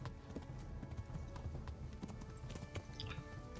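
Horse hooves clip-clop at a steady trotting rhythm while riding in the Kingdom Come: Deliverance video game, faint and continuous with game ambience underneath.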